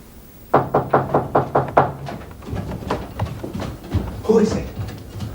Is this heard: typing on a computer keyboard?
no